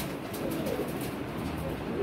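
A pigeon coos softly in a series of low, rounded calls over a faint steady background, fairly quiet and close, with no voices.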